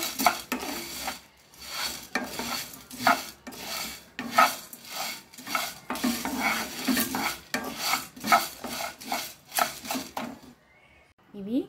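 Garlic cloves and tamarind frying in a pan for bitter gourd powder, rhythmic scraping strokes of a spatula against the pan over a light sizzle, repeated about every second, with a voice at times.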